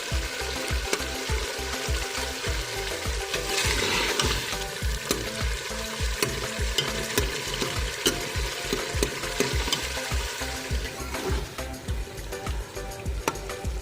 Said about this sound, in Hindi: अब हम शलजमों को अच्छे से मैश करेंगे